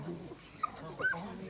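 A Chinese crested dog in a little jacket gives soft whimpers and a couple of brief high yips, close by, under ongoing talk from people nearby.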